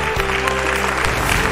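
An audience at a stage event for a musical play claps warmly to greet the poet Vinodbhai Joshi, a brief, full burst of applause heard close up, with a faint sustained tone underneath.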